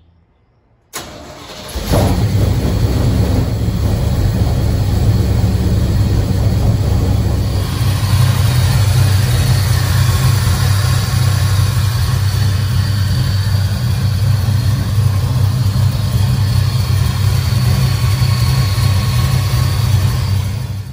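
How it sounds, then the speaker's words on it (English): A truck engine fitted with Holley Super Sniper EFI cranks briefly, catches and then idles loudly and steadily for a long stretch, with a constant low rumble and no talking. "we're gonna go ahead and fire it up and hopefully it starts."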